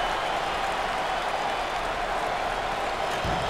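A packed basketball arena crowd during an NCAA tournament Elite 8 game between Washington State and Connecticut, giving a steady, loud wall of cheering and applause that holds without a break.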